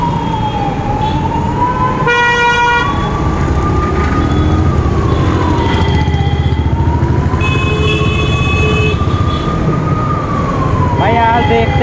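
A wailing ambulance siren rising and falling over rumbling Delhi road traffic, loud and close, with a few horn blasts cutting in.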